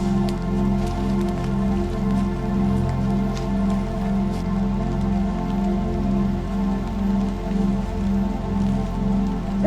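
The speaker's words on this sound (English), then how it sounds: "Walking through the rain-soaked trail" Rain falls on a trail as a steady, dense patter of drops that continues throughout, while a low rumbling hum runs beneath it and no one speaks.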